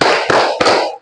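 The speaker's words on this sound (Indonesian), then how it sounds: "tepuk tangan" A group claps hands together during a classroom ice-breaking clapping song, with three loud, sharp, close claps spaced evenly about a third of a second apart.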